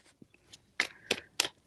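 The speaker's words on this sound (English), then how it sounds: "3 shuffles." Tarot cards being shuffled, three short crisp riffling bursts close up in a quiet room, with faint small handling noises between them.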